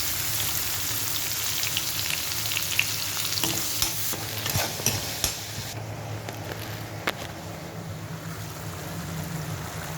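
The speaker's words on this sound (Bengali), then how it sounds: "এবার এই একদম কুচনো পেঁয়াজ এটাতে দিয়ে দেব।" Finely chopped onion frying in oil with cardamom, cinnamon and cloves, a loud continuous sizzle and crackle close up, with a few spoon scrapes and clinks partway through.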